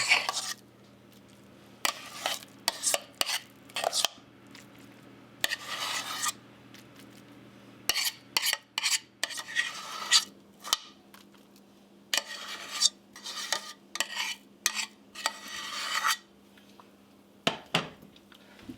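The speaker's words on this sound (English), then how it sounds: "And slowly spread that out to the corners." A spoon spreads mashed potatoes over a shepherd's pie in a baking dish, making repeated short scraping and smearing strokes in uneven bursts with pauses between them, close and fairly clear.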